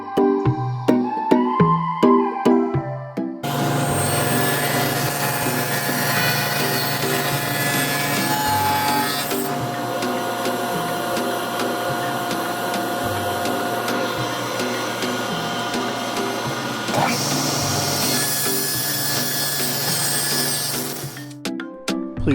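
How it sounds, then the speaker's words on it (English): Power sander working wooden sailboat companionway pieces, a loud steady whining drone running about eighteen seconds after a few short bursts at the start, then cutting off abruptly. "Now we're going to step it down a bit and do a little more finer sanding to smooth it out"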